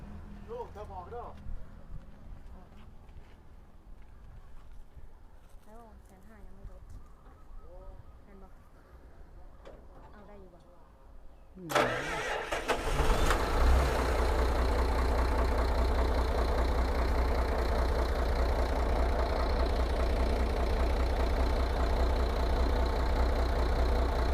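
A Hino bus engine cranks and catches about midway, then settles into a loud, steady low idle with a constant rumble; quieter chatter and background noise come before the start.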